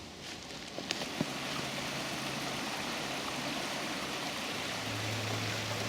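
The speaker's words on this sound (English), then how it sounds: "Got the main river just over there." A river flows near a campsite in the woods, giving a continuous broadband rush of water that is steady and moderately loud throughout, with a few small knocks near the start and no talking.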